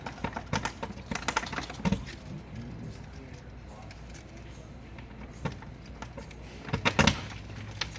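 A ring of keys for a cassette toilet, including a 301 key, jingles and clinks in a few short bursts over a low background hum, loudest near the end.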